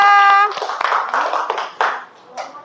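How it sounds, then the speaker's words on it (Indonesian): Brief applause for a student group after a classroom presentation: scattered hand claps over a couple of seconds following a short tone, fairly close. "Kasih tepuk tangan untuk kelompok 3."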